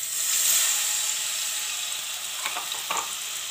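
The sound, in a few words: ginger garlic paste sizzling in hot oil in a kadai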